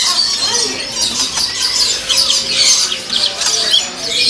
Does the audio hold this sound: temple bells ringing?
no